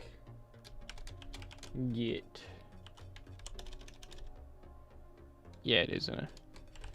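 Rapid clicking of a computer keyboard being typed on, steady bursts of keystrokes close to the microphone, broken twice by short spoken phrases.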